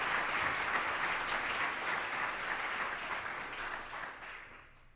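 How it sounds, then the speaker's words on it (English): An audience at an opening session claps for its sponsors, a dense, steady round of applause that holds for about four seconds and then tapers off, with no voices over it. "We should give them a round of applause for helping us."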